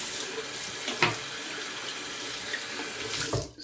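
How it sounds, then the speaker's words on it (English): Tap running steadily into a sink for rinsing during a straight razor shave, a continuous close hiss of water with a couple of brief splashes as hands pass through the stream. "Let's do a little rinse and see where we're at."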